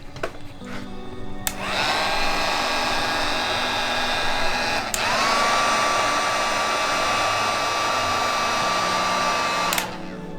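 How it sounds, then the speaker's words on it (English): Heat gun powered by a van's inverter, switching on with a click into a steady high whine and airflow roar that shifts pitch midway, then clicks off near the end; close and loud with no talking. "So I'm going to plug in a device. This is a heat gun."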